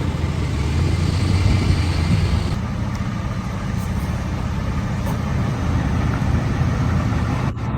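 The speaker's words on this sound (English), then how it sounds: "when the large truck arrives directly in front of the loading door" A large truck pulls up in front of a loading door, its heavy engine rumbling low and steady close by, with a continuous idling drone throughout.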